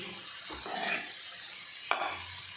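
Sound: roasted eggplant stirred into fried spices in a pan

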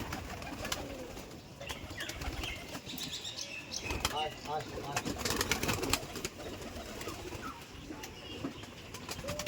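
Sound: pigeons being released from their loft

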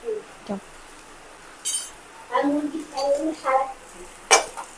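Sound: grandmother washing dishes

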